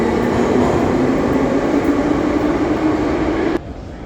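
Soviet-era metro train in a Tashkent station, a loud steady rumbling roar of the train moving through the platform, cutting off abruptly near the end with quieter ambience remaining.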